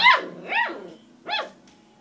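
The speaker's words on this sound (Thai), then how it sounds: "ไหนเห่าอะไร" A dog barks three times in sharp, loud bursts close by, with short pauses between each bark and a faint low hum underneath.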